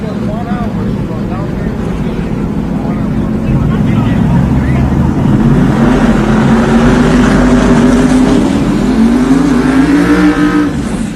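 Drag racing cars at a starting line fire up and rev, engines rumbling loudly and climbing in pitch toward the end, with a commentator talking over them.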